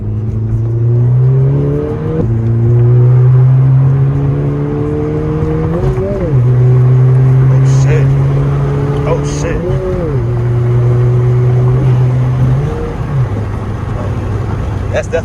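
Honda Civic Si with a Ktuner tune, running 23 PSI of boost in sport mode, accelerates hard through several gears; loud engine note rises in pitch, dips at each shift, then climbs again, with speech mixed in.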